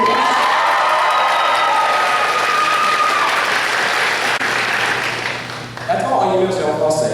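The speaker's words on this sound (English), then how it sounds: "so a round of applause to her" A graduation-ceremony crowd claps for a student champion, loud sustained applause that thins toward the end, with some voices and cheering mixed in.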